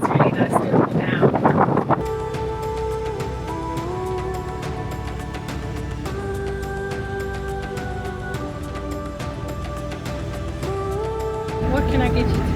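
Steady wind buffeting the microphone during an open safari drive in hot South African weather, a constant roaring rush with music playing throughout.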